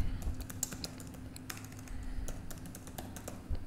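Someone types on a computer keyboard while building a WordPress page, irregular clicking keystrokes, close and fairly faint, with no talking.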